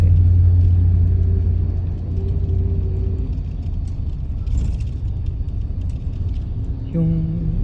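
Vehicle carrying a group to the dining area, with a steady low engine rumble close by and some rise in revs near the end, while people talk over it.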